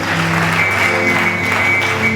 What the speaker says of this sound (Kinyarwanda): Let's give a round of applause to Jesus.